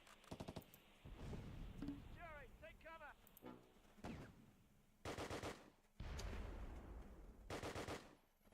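Game gunfire from the Close Combat Last Stand Arnhem battle at the bridge: rattling machine-gun bursts and sharp shots in repeated loud volleys, mixed with whistling and crashing battle effects, plus a voice.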